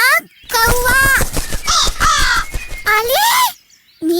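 A crow in an animated Ramayana tale gives loud, harsh, repeated caws in several bursts, with short pauses between them and a brief silence near the end.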